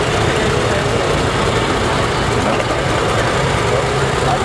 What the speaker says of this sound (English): WD-45. Sounds good, Marty. Got her running good